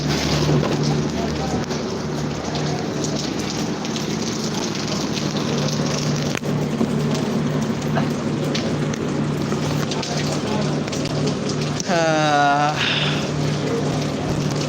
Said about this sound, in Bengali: আমাদের এখানে এখন বর্তমানে বৃষ্টি হচ্ছে